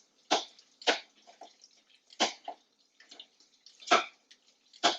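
Spaghetti being stirred in an Instant Pot, a series of wet, sticky squelches and soft clacks from the utensil moving through the noodles, about six distinct strokes at irregular intervals, close and fairly quiet.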